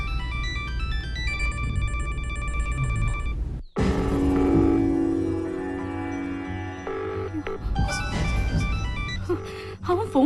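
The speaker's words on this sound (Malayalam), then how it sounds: "ഫോൺ റിങ് ചെയ്യുന്നുണ്ട്, പക്ഷെ ആദ്യം ഫോൺ എടുക്കുന്നില്ല" A phone rings in a Malayalam comedy scene, playing a repeating electronic melody that pauses briefly and then resumes. Voices and background noise run beneath it.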